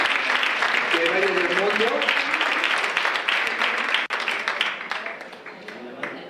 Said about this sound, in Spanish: se merece un buen aplauso